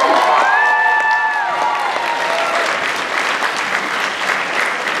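A college Chinafest crowd claps loudly for its head advisors, with cheers and whoops rising at the start and dense applause sustained to the end.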